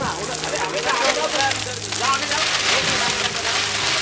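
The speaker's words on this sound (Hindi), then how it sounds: "थोड़ा कम ज्यादा है थोड़ा कम करो बारिश" Artificial rain pours on the set of the TV show Qubool Hai, a steady hiss of falling water under people speaking Hindi nearby.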